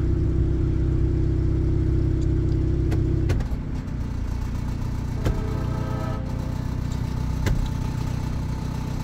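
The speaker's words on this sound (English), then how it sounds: "But the whole car moves when I shift the gear, like it clicks." A salvage-auction car with a faulty, jerking transmission runs at a steady idle, its low engine drone dropping in pitch as the gear is shifted, followed by a few sharp clicks and knocks from the shifter, with no talk.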